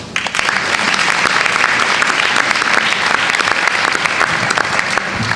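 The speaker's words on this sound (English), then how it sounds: "another round of applause for those students who put on a performance" A large audience at a school board meeting claps loudly and continuously for student performers, a dense, steady wash of applause that holds for several seconds without pause.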